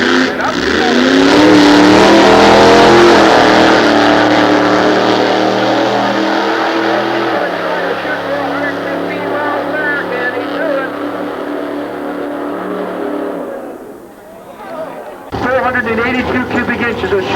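A 1955 Chevrolet nostalgia drag racing car at Sears Point launches from the staging beam with a loud, sustained engine roar that slowly fades downrange, with an announcer talking over it and a second engine surge near the end.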